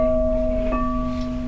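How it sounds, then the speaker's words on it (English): A school bell rings with a steady, sustained electric tone that holds unbroken for the whole stretch, with a slight shift partway through and no voices over it. "There's a school bell ringing."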